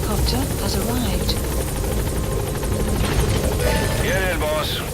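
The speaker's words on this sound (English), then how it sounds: "Support helicopter has arrived." The support helicopter in Metal Gear Solid V: The Phantom Pain makes a continuous, loud rotor thrum and engine drone under the game's background sounds, while voices speak over it.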